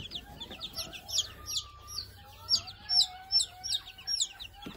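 A 45-day-old hybrid junglefowl chick clucks and peeps repeatedly inside a cage, a quick run of high, close chirps over faint low background noise.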